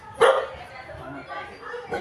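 Street dogs in a residential lane bark, with one sharp, loud bark near the start and a softer one at the end, while people talk over and between the barks.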